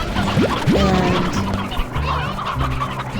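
Chickens cluck and squawk in the video game Slime Rancher, with a couple of rising calls followed by steady clucking over a busy game ambience, close and moderately loud with no talking.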